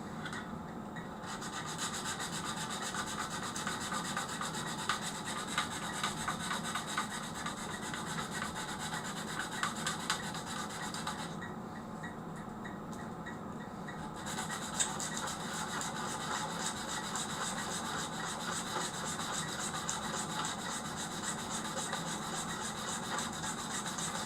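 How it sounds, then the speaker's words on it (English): Wood being rubbed to work out a crack, a continuous close scratchy rasping rhythm that runs throughout with brief lulls. "we can probably make that crack totally disappear with a little bit more rubbing"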